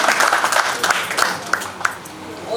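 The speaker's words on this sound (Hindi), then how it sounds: "एक बार जोरदार तालियों के साथ" An audience at a seminar in Delhi gives a short burst of applause to welcome a guest, with scattered claps fading out over a couple of seconds.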